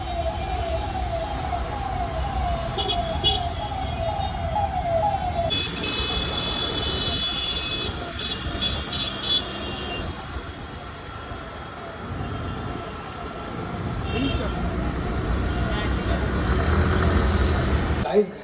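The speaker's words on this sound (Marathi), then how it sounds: "काय आता ट्रॅफिक लागले" An emergency siren wails through road traffic, loud at first and then cut off, with car engines idling and rumbling nearby and a person talking over the scene.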